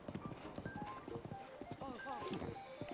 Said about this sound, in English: Using a horse.